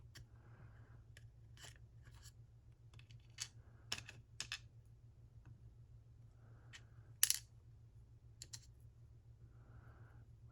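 Small metal rotors from a Mottura C55 lock dropping out, heard as a few sharp, sparse clicks and tinkles close by over a steady low hum, with long quiet gaps between them.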